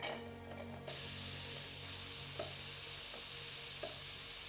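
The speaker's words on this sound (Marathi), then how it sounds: "कढई तापली, आता कांदा टाकते भाजायला" Onion frying in a hot kadhai produces a steady, dense sizzle that starts abruptly and holds throughout, with a few faint clinks of stirring.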